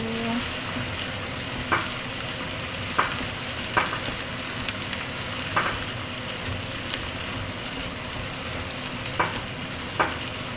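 Ingredients frying with curry leaves for a chicken curry, a soft steady sizzle throughout with a handful of sharp spatula taps and stirring scrapes spaced every second or two, no talking.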